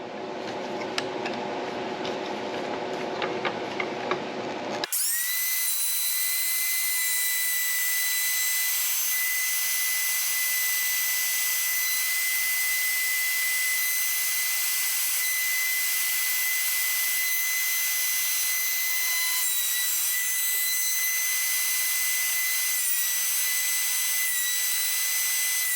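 A wood router carves small lines into a leaf on a simple wooden sign, a steady high-pitched whine that runs continuously and loudly after a brief quieter lead-in.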